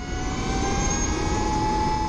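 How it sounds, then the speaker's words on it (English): A steady, loud jet-turbine-like whine from an Energica electric motorcycle, a high sustained tone over a dense rushing roar, unbroken throughout. "the loud racy jet turbine sound of Energicas"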